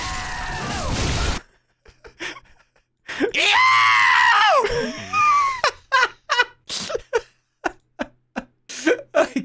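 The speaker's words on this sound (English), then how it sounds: "Orphan of Koss yell." The Orphan of Kos, a video game creature, lets out harsh, loud screaming yells: one long shriek, then a wavering howl, followed by a string of short, sharp squealing bursts separated by silence.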